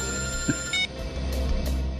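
A telephone rings indoors in a bureau office, giving a short electronic trill of bright tones that is fairly quiet and heard alone, with no talking.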